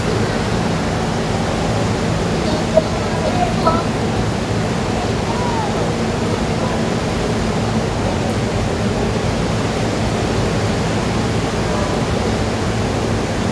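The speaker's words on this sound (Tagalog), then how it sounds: "rumaragasa po, maingay, malakas ang agos. Yan po ang sitwasyon ngayon dito sa Marikina River." The flooded Marikina River rushes past in a constant, broad roar of fast-flowing water, loud and unbroken throughout, with no voices over it.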